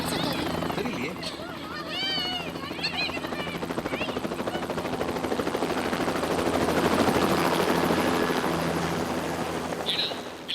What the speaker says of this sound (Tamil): ஹெலிகாப்டர் வந்தாச்சா?